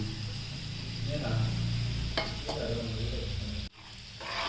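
Salt, chili powder and fenugreek powder being stirred into hot oil for mango pickle, a steady close sizzle with soft scraping stirs, ending in a sudden drop to quieter hiss.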